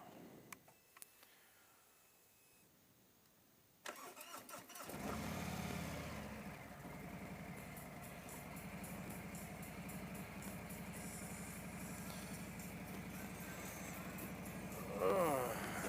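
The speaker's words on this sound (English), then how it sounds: "now I turn on the bike" A motorcycle engine starts after a quiet stretch with faint background music, then settles into a steady, fairly close idle that runs on to the end.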